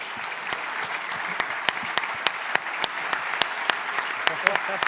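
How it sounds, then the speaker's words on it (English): A conference audience at an Ignite event gives a big round of applause, a thick sustained wash of many hands with sharp individual claps popping out near the microphone, while a voice talks faintly underneath. "please, a big round of applause"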